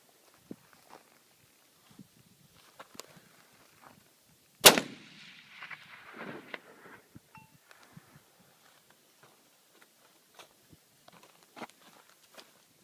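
A single loud, close .338 Lapua Magnum rifle shot cracks out sharply and decays with a short echo, set among faint footsteps and light handling noises on an otherwise quiet range.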